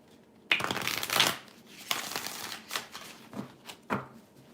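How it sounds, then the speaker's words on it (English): Tarot cards shuffled by hand in a close, quiet room, heard as several rapid riffling bursts with short pauses between them and no talking. "He does something every time I shuffle."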